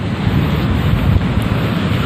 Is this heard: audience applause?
no